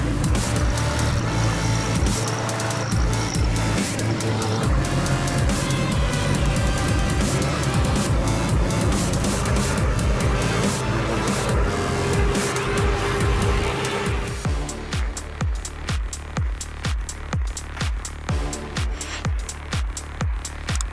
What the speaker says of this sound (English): The 600 horsepower engine roared, the wheels spun in the thick ice.